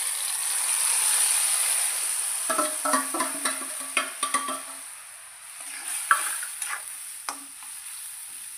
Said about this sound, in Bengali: তো এখন মশলাটা কষাই নিব